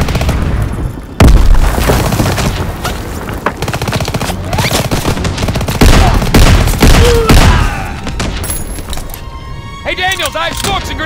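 Dense, loud gunfire and explosive booms in the World War II shooter game Call of Duty: WWII, with sustained bursts of rapid shots throughout and shouted voices over the battle.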